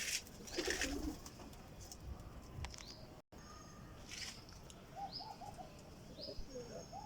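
Soft, low cooing of a Laakhe pigeon repeats in short bursts amid outdoor noise, with scattered bird chirps and faint rustling in the background.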